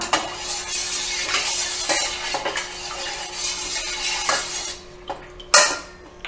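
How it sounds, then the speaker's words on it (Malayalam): A spoon scrapes and clinks against a metal pot in repeated stirring strokes through dal with turmeric, close and clear, with no talking. "ഇനി ഇതൊന്ന് ഇളക്കാം"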